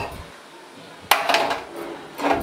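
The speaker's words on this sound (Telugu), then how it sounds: "ఈ విధంగా ఈ దీపం కుందుని స్టవ్ పైన పెట్టాలి" A metal lamp holder set down on a gas stove top gives one sharp metallic clank, followed by softer clinks and a second knock near the end, over quiet background hiss.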